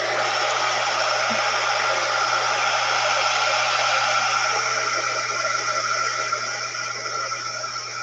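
Hair dryer blowing steadily on a watercolor painting, a constant loud broadband whoosh with a low motor hum running the whole time, alone with no talking.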